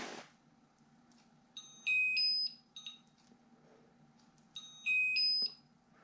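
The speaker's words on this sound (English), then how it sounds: "Press and hold the set button until it beeps. It's going to go into its diagnostic test." A DTS 1 race timer beeps as its set button is held to enter diagnostic test mode, two clear, close electronic beep sequences of stepped tones a few seconds apart, with no talk.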